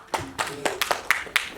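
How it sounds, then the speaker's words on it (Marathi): An audience at a ceremony honouring two mothers at a deaf and mute workers' union event claps in a handful of loud, uneven claps close by, rather than sustained applause. "त्या जरा जोरदार टाळ्या व्हायला पाहिजे आई-साहेबांसाठी"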